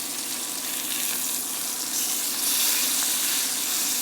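Steaks sear in a hot pan with a dense, steady, close-up sizzling hiss that swells slightly midway and holds without pause.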